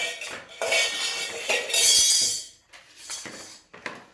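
Metal pots, pans and cutlery clatter and clink in bursts as a child plays at cooking with kitchen utensils, loud, close and irregular with short pauses between handfuls.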